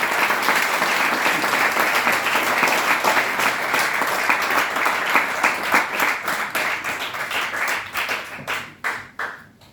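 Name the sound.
audience applause at a college Hindi lecture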